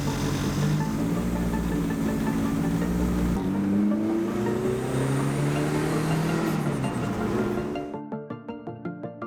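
A Ford Fiesta drives along the road, its engine droning steadily with gear changes and rising, falling pitch, then the sound cuts to quieter rhythmic clicking near the end.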